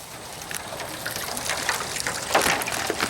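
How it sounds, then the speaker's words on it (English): About fifty live Louisiana blue crabs tumble into a pot of seasoned cold water, giving a short, close splashing gush with scrabbling rattles that swell toward the end. "I'm going to dump my crabs, and my crabs are still alive."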